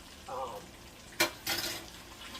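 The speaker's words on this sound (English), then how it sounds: "I'm gonna add 2 teaspoons of this organic tomato paste, and of course I'm gonna let that also" Soft frying sizzle from a pan of Creole chicken sauce with tomato paste going in, quiet and close, broken by a sharp clink and a short stirring scrape, with a brief bit of voice.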